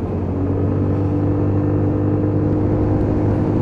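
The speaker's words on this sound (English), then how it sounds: "that little engine just purring away below" A Lexmoto Titan 125 motorcycle's small engine hums steadily as the bike accelerates, a close, constant low drone with a rising note and wind rumble and no speech.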